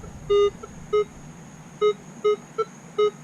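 A beach metal detector held over a gold cross gives six short electronic beeps at an uneven rhythm, clear and close over faint background hiss, with no talking.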